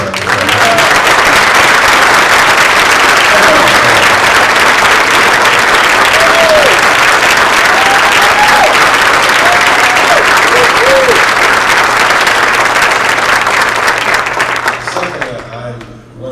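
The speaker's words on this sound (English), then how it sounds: "Give them another big, big round of applause." An audience at a 2014 COMTO conference gives sustained, loud applause for honored women, a dense wash of clapping that holds steady for over a dozen seconds before tapering off at the end.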